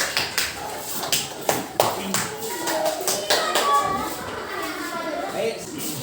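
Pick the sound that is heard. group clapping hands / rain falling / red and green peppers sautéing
group clapping hands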